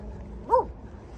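A dog beside a walking trail gives a single short, faint yip or bark, alone against quiet outdoor background.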